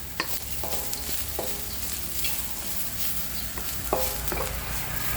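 Bamboo shoots and egg stir-fry in a hot pan, with steady sizzling under repeated scraping strokes of a spatula, the clatter close and fairly quiet.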